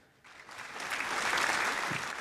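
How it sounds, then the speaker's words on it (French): Crowd applause swells after a brief quiet start and holds steady and dense, alone without talk, during a French football discussion show following an OL-Troyes match. "Bien, bien, on va t'applaudir."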